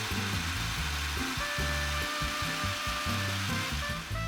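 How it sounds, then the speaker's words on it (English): A blender whirs loudly and continuously as it purees raw cashews with champagne wine vinegar, the motor pitch surging and dipping as the thick mixture churns, with no voices. "And we'll blend it all up."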